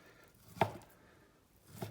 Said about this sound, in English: There's a little bit of hard gristle there, which wouldn't hurt you, but I'll cut it out.